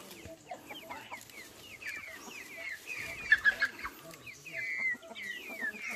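Many chickens cluck and squawk together close by, a busy overlapping chorus with louder bursts in the middle.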